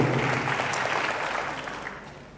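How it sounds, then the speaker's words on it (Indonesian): A church congregation claps, a dense, even wash of hands from many people that holds steady and then slowly fades over a couple of seconds, with no voices above it. "Tepuk tangannya paling meriah buat Tuhan"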